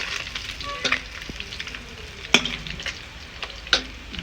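Fish pieces fry in oil over a wood-fired stove, giving a steady close sizzle broken by a few sharp clinks and stirring scrapes. No one speaks.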